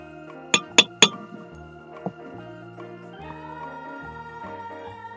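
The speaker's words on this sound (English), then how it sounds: "add the dilute sulfuric acid to it," Glassware clinks three times in quick succession, bright and close, with one softer tap after, while dilute sulfuric acid is added to a dissolved mixture when making salicylic acid.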